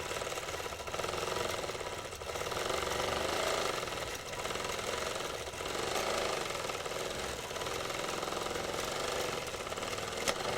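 A sewing machine runs steadily while quilting around a drawn design for trapunto, a continuous loud mechanical whirr with a fast needle rhythm, swelling slightly in pace without pauses.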